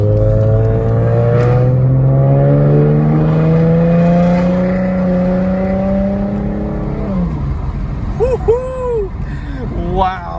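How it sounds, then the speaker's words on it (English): Ford Mustang with a Roush exhaust pulling away, the engine note rising strongly for several seconds before dropping off, followed by a few quick, sharp revs, close and loud. "that Roush exhaust is legit, boys. Like, it sounds so good."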